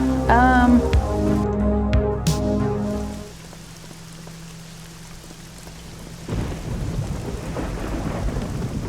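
In the horror game Nightmare Frames, a loud tonal rumble and clatter fades into a quiet hum, then a steady rush of rain with distant thunder rises, heavy and continuous, with no voices.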